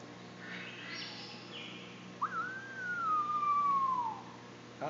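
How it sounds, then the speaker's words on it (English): A pheasant pigeon at a zoo gives a single drawn-out whistled call, a rising then slowly falling tone, faint against a quiet background hum. "That is a pheasant pigeon here at the National Zoo with Benjamin"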